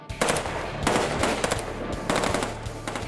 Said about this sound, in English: The guns blaze and the phone book confetti flies.